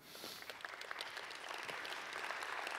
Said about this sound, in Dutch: Dames en heren, mag een groot applaus